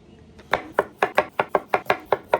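A knife chops potatoes on a board in about nine crisp, evenly spaced strokes, close and loud with nothing else heard.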